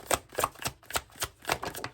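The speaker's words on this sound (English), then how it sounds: "These cards are kind of not coming out right. They're kind of shuffling everywhere." Tarot cards shuffled by hand in quick, rhythmic riffling bursts, roughly five or six crisp flurries in two seconds, close and fairly quiet with no voice.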